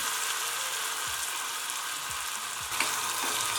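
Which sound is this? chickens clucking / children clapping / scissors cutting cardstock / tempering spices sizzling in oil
tempering spices sizzling in oil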